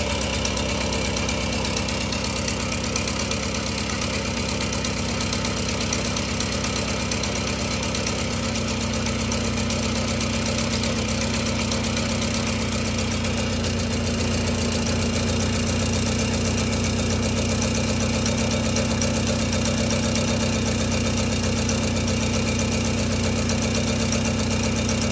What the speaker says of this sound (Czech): Takže babeta má vysoký otáčky.